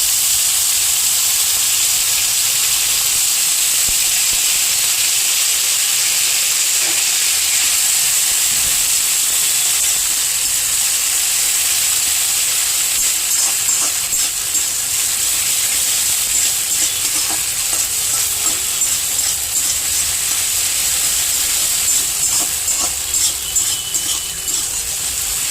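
A paste of ground ginger, fennel and green chili sizzles loudly in a hot pan, a steady bright hiss and crackle with faint stirring scrapes running throughout.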